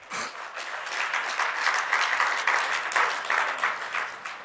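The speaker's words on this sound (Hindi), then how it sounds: "इस जवाब पे तो आपने ताली बजा दी।" A live audience at a Hindi spiritual discourse applauds steadily, dense sustained clapping filling the room for several seconds with no talk over it.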